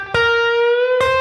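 Electric guitar playing a short solo lick: a thumb-picked note rings out clean and sustained for nearly a second before a second pluck, alone and moderately loud.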